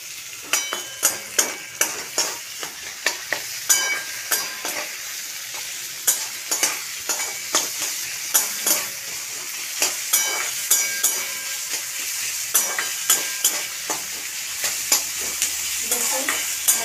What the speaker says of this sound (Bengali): দেখুন ভাজা ভাজা হবে।